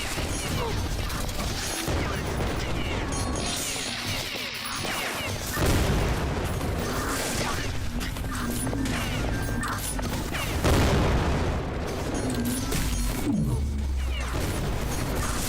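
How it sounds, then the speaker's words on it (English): Missiles from a weapon's alternate fire exploding in a frantic shooter game, a dense and continuous barrage of loud blasts, crashes and mechanical clatter that rolls on for the whole stretch with hardly a break. "Apparently the alt fire shoots missiles."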